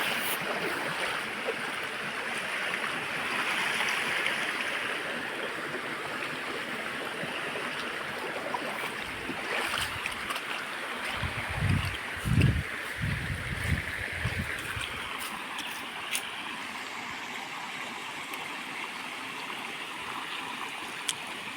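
Water rushes steadily from a mountain stream in the Kokan hills, a continuous broadband flow with a few low thumps and splashes near the middle before it settles into a softer, thinner trickle.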